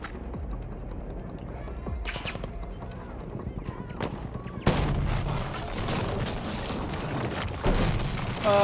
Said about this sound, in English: Who is shooting at me? Sniper or something.